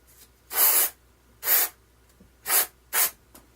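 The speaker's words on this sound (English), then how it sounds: "So let's quickly take the spray," Four short bursts of spray cleaner aimed into a stuck Nintendo 64 reset button, each a loud close hiss lasting about a third of a second, separated by brief silences.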